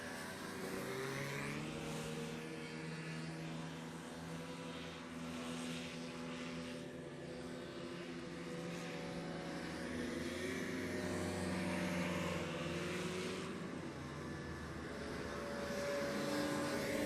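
A racing hovercraft pushes hard across the line at a race meeting, its engine and propeller giving a sustained droning roar with a steady pitch that swells slightly, heard from moderate distance with no talk.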